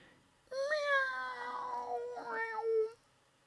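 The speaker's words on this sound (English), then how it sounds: "A second later, I hear a faint caterwaul from an adjacent room." A faint cat caterwaul drifts in from an adjacent room, one drawn-out wavering yowl with a falling pitch and a brief rise near its end, heard alone over quiet background.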